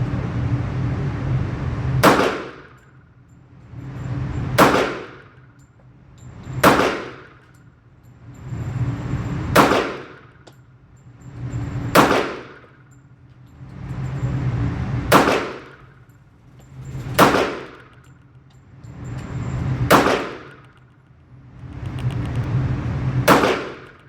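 A Bul Armory SAS II Tac Commander stainless steel .45 ACP pistol fires at a range: about ten sharp, loud shots, evenly spaced roughly two to three seconds apart, with no talking.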